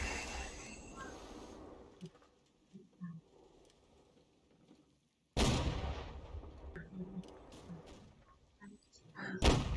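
Musket and cannon shots crack out in Holdfast 2, the Napoleonic-era line battle game, during a competitive gunner league semi-final match, with loud bursts near the start, middle and end separated by quieter stretches of faint battlefield noise and occasional speech.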